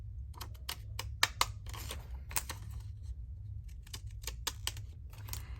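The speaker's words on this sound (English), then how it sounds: "I'm going to cut that out with the wobbly scissors." Rapid, irregular snips and crisp clicks of wavy-edged scissors cutting paper, close up, with a low hum underneath and no talking.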